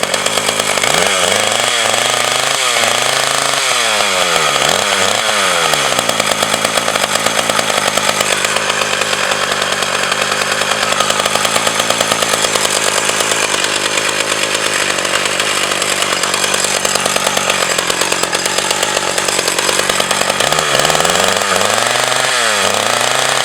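A STIHL 010 chainsaw runs close and loud: a raspy two-stroke buzz with several rising and falling revving surges at the start, a long stretch of steady high-pitched running, then more throttle blips near the end.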